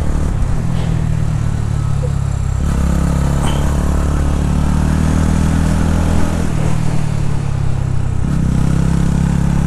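A TVS Ronin 225 motorcycle engine drones steadily at close range on a mountain road, with its pitch shifting slightly as the rider changes speed, plus some wind and road noise.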